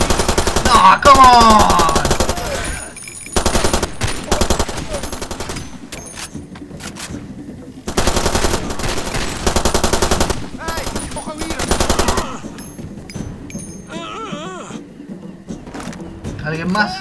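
Repeated bursts of automatic machine gun fire in the video game Far Cry 2, loud sustained rattling volleys separated by short pauses, with a voice talking between them.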